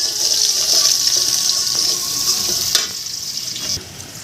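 Chopped onion hits hot oil with spices in a pan, giving a loud, close, watery hiss that gradually settles, with a couple of brief knocks and scrapes toward the end.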